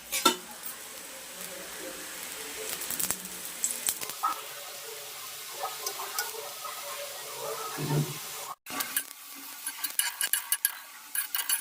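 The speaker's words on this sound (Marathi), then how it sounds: "तेल सोडलेलं आहे मी आणि आपण व्यवस्थित ते भाजून घ्यायचं." Sabudana paratha fries in oil on a pan, a soft steady sizzle broken by clinks and scrapes of a utensil, close and fairly quiet with no talk.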